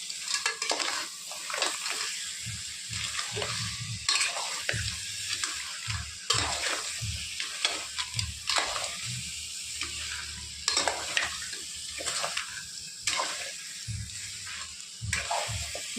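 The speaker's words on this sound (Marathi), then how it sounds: "मसाल्यामध्ये परतून घेणार होतं छानसं" Crab is stir-fried in a spicy masala. A continuous close sizzle carries quick, repeated spatula scrapes and clinks against the pan in an uneven rhythm.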